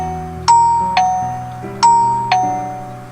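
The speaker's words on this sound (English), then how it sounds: "suddenly I heard someone ringing the bell at the door." A two-tone electronic doorbell chimes ding-dong twice in succession in the visual novel game Connect Hearts, clear and loud, over a soft sustained synth background.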